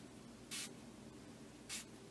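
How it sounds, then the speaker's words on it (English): Two short hissing bursts of Tattered Angels Glimmer Mist shimmer spray in Rose Gold, each about a fifth of a second, misted over wet paint in a quiet room. "Let me spray it into those really wet areas."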